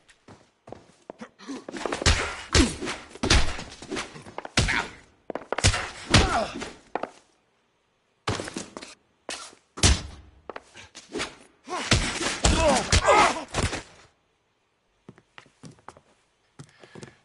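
Punches landing in a fistfight in the L.A. Noire video game: heavy thuds and slams in clustered flurries broken by short pauses, close and loud, with no talking.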